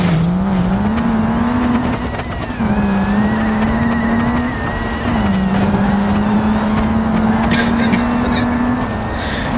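A 2000HP semi truck in BeamNG.drive roars loud and steady as it accelerates down a drag strip, its engine note climbing in long pulls broken by brief dips at each gear change.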